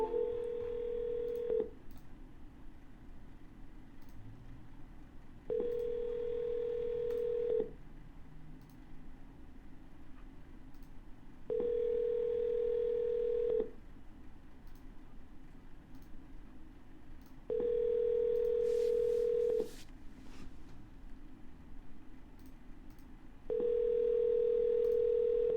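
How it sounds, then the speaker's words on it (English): A telephone ringback tone repeats steadily, five long even tones separated by pauses, clear and alone on the line during an outgoing call. "I'm going to double dial. Always want to double dial."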